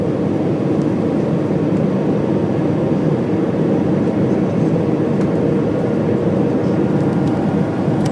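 An airplane coming in to land gives a loud, steady engine roar with a broad rumbling hiss that holds constant throughout, with no voices.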